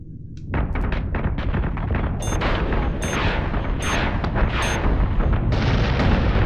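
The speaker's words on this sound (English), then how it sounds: "Missiles on their way." Missile strikes in the space combat video game Battlestar Galactica Deadlock land as a loud, continuous rumble, broken by several sharp booms in quick succession.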